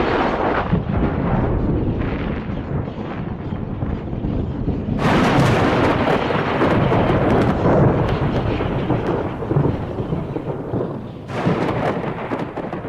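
Thunder from lightning rumbles loudly and continuously, with a deep low roll that swells into a brighter crackling burst midway and again near the end, under steady rain-like hiss and no voices.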